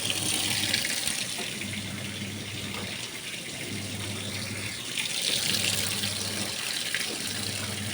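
Tap water runs in a steady, close, continuous gush that fills the whole stretch, with faint low rumbling pulses underneath and no talking.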